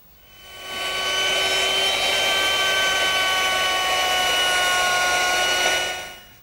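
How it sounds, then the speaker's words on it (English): A router fitted with a 3/8 inch radius beading bit cuts the outside edge of a wooden mirror frame, a loud steady high whine that ramps up, holds for several seconds, then winds down, with no talk. "now I've changed my bit to a 3/8 inch radius beading bit, and that'll do the outside edge of the mirror"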